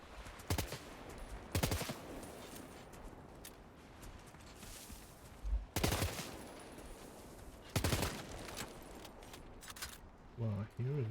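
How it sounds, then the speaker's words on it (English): Automatic rifle fire in the video game Death Stranding 2, loud repeated bursts of rapid shots separated by pauses of a couple of seconds, with quieter rattling handling noises and a voice near the end. "What was this automatic rifle? 2 modes."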